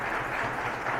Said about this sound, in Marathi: त्यांच्यासाठी जरा टाळ्या वाजवा.